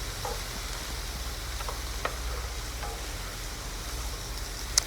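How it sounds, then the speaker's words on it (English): Minced garlic, red pepper flakes and green beans sizzle in a skillet as a steady, dense hiss, with a few faint clicks of stirring and a soft knock near the end. "I'm just going to mix that around with the red pepper flakes and the minced garlic."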